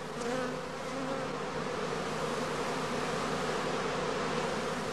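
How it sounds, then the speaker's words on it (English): Honey bees swarming from a traditional skep hive at an apiary make a dense, continuous buzzing drone, close and steady throughout, with no voices. "To avoid losing bees, the prime swarms have to be caught directly on leaving the skep."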